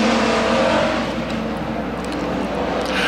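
A pack of hobby stock race cars roars at the green flag at Crawford County Speedway, a dense, loud wall of engine noise with revving that swells and holds steady throughout.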